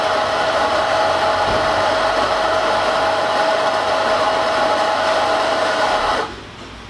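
An electric coffee grinder grinding espresso beans, a steady loud whirring drone with a high hum that runs unbroken for about six seconds, then cuts off abruptly.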